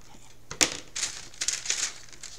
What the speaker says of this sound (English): And then I'll just cut loosely around it.